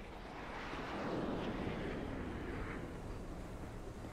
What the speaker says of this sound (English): there's a jet flying in here